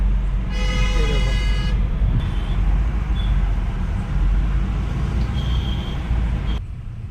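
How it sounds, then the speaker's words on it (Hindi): Heavy night road traffic in Noida on Dhanteras fills the scene with a loud, constant rumble of engines. A long car horn blares early on, and shorter toots sound from nearby vehicles later. "धनतेरस की वजह से आज भाई साहब रात को भी ट्रैफिक है।"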